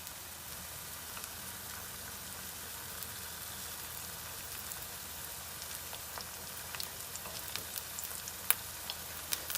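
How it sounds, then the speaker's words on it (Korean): Steady crackling sizzle of a Korean potato pancake frying in plenty of hot oil, with occasional louder pops, quiet and continuous throughout. "이렇게 하는 감자전은 튀기듯이 붙여준다"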